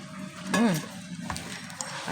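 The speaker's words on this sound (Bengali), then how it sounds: "এবারে এগুলোকে আমি জল দিয়ে ধীরে ধীরে মেখে নেব।" Pakora batter being kneaded by hand as water is added, giving a wet, squelching, sloppy stirring sound close up, with a brief whining tone near the start.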